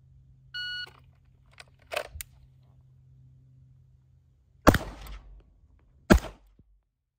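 A short electronic shooting range timer buzzer tone, followed by a few distinct thuds and two loud sharp gunshot cracks outdoors.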